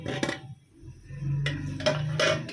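Metal biryani pot lid lifted off after dum cooking, giving a few clanks and scrapes of metal cookware, a sharp clatter near the start and two more bright clinks near the end over a low background hum.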